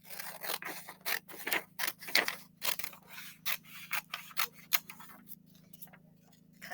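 Scissors cut paper pieces out of a worksheet, a quiet close series of crisp snipping strokes in an uneven rhythm, with brief pauses and a low steady hum underneath.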